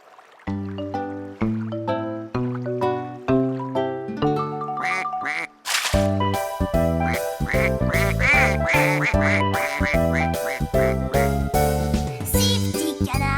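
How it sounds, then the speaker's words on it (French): Cartoon ducklings in a children's animated song, with a rhythmic run of tuned, quack-like notes that gives way to fuller bouncy music with bright chimes. "Six petits canards prennent leur bain."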